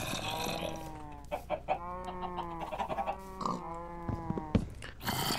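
Clucking chickens in a farming video game make a run of short, stacked squawks and bawks, fairly close and moderately loud, alone without talk.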